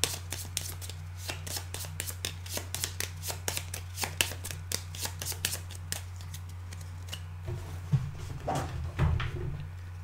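Playing cards for the Pandemic Reign of Cthulhu board game are shuffled by hand at a table, a quick run of crisp riffles and taps that slows and softens toward the end, close and clear.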